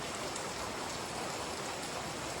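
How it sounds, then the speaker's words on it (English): Rain falls steadily on a trail shelter along the Appalachian Trail, a dense, even hiss of drops with no let-up and no voices. "I'm gonna wait for the rain to stop and then go set up outside the shelter"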